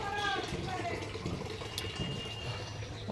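Tap water runs steadily into a container at a home in Bengal, a close continuous splashing rush that fills the whole clip, with faint voices and household noise underneath.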